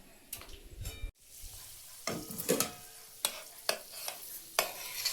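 Bay leaf, two dried chillies and whole garam masala dropped into hot oil for chicken curry, soft sizzling with a few sharp stirring clinks and scrapes of a spoon on the pan, fairly quiet.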